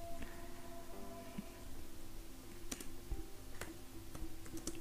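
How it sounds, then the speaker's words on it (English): Quiet typing on a computer keyboard, a loose run of faint clicking keystrokes with a few sharper taps, set against a steady background hum. "let me just check my keyboard"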